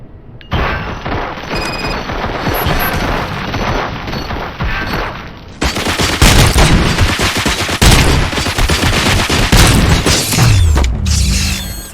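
Heavy gunfire from the video game Robocop: Rogue City: dense, loud bursts of automatic fire and booming shots with mechanical clatter, growing more intense partway through and sustained almost to the end.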